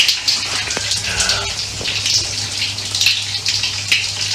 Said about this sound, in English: we're just running the shower to test the drain